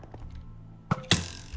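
Arrows fired by a mob strike the player in a video game, two sharp thunking hits in quick succession, each followed by a brief ringing tail, over quiet background.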